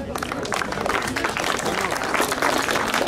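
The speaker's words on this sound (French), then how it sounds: "Vous pouvez l'applaudir, c'est vrai." Dense, continuous clapping from an indoor audience at the 2018 FKS Wattrelos prize-giving ceremony, fairly loud and close, with a voice talking over it.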